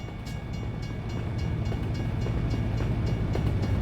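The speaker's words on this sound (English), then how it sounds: "A train does come through here." Canadian Pacific freight train rolling past in the American Truck Simulator game, a steady low rumble of wheels and cars that grows slightly louder and holds throughout, with faint rhythmic clatter and no talking.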